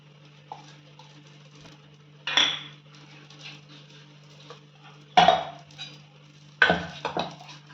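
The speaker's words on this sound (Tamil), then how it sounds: "வந்து நல்லா மிக்ஸ் பண்ணிக்கிங்க" Spoon clinks and scrapes against a steel bowl as ground tomato paste is mixed into dosa batter, three distinct close bursts of clatter separated by quiet stretches under a faint background hum.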